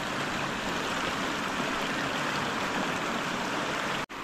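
A flooded river rushes hard, making a dense, constant roar of fast water, loud and steady from start to finish with only a momentary cut near the end.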